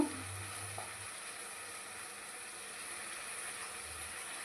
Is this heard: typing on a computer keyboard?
no